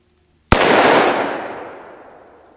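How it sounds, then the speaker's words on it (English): A 2020 Colt Python revolver fires a single sharp, loud gunshot at an outdoor target, followed by a long decaying boom that fades over about two seconds. "I'm gonna shoot it again."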